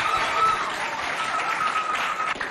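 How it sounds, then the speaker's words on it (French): An audience at a school inter-college competition in Doba applauds steadily for about two and a half seconds, a dense, even wash of clapping heard on its own. "Applaudis bien fort"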